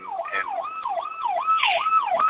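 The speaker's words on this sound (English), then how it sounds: "I'm getting distracted by sirens back here." A wailing emergency vehicle siren rises and falls in a steady repeating cycle, moderately loud, with a second higher tone layered over it.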